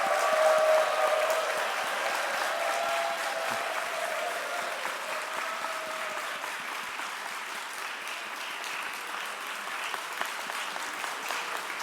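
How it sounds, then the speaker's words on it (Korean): An audience at a seminary chapel service applauds during a flower bouquet presentation to a professor, a dense, sustained round of clapping from many hands that continues evenly and slowly eases off. "여러분들 뜨거운 박수 보내주시기 바랍니다."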